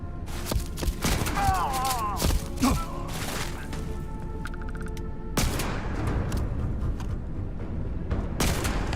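Rapid bursts of gunfire in the Starfield video game, sharp cracks and booms repeating through the scene, loud and close, with a voice talking over parts of it.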